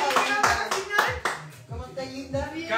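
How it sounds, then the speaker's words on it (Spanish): A TV cooking-show audience gives a guest a round of rhythmic clapping in repeated bursts, while voices talk over the applause. "aquí está Paula Benke, un aplauso, por favor."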